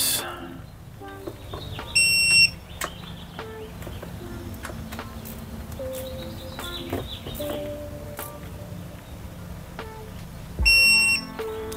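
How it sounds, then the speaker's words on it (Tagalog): A digital torque wrench gives two short bursts of high electronic beeping at set torque, several seconds apart, over quiet workshop clatter and faint background sounds while working on a 1999 Honda Civic EX. "tumutunog siya pagka right torque specs na or right higpit na ng mga bolts"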